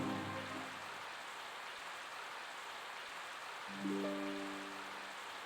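Steady rain in the video game Growlanser 3 patters and hisses continuously at moderate volume, with low droning tones coming and going beneath it.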